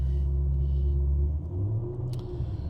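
A 1995 Aston Martin V8 Vantage V550 settles into a deep, steady warm-up idle, its low rumbling burble close and constant, briefly shifting pitch midway, with a faint short click near the end and no talking.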